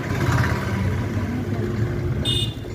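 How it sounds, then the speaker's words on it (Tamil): A Porsche car drives past on the road and overtakes, its engine holding a steady, fairly loud hum throughout, with no talk. "எங்கள் முன்னாடி இது ஓவர்டேக் பண்ணிடுச்சு தான் இந்த வண்டி"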